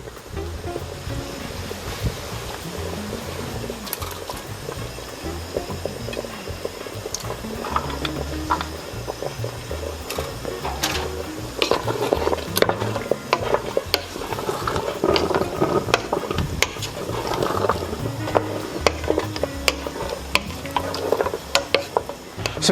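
Mixed seafood simmering in a pot for chowder, a steady bubbling and sizzling with scattered clinks and stirring knocks that grow busier and louder partway through, heard alone without talk.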